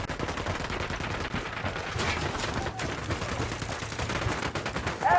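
Sustained gunfire in Ghost Recon Wildlands during a fight with cartel gunmen, a fairly quiet, continuous rattle of overlapping shots with no break, and no talk over it.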